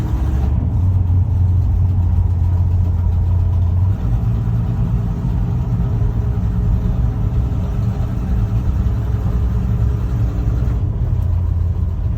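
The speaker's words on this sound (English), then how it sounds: "the power of that Cummins engine" A Cummins straight-six diesel engine in a 1964 Ford Falcon Ranchero runs steadily nearby, a loud, even low rumble with no voices over it.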